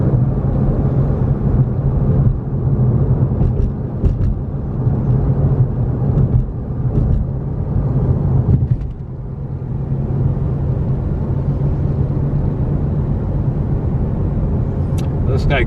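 A car driving along a road past theme park construction in Orlando, a steady close engine and road rumble with occasional louder bumps and passing noise, no voice audible.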